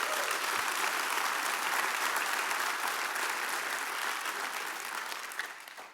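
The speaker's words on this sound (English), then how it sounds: "So give a round of applause for Jeff Cranford." An audience at a live Tales From the Tour show in Phoenix applauds: a dense, even wash of clapping from a sizable crowd, loud at first and slowly thinning toward the end, with no talking on top.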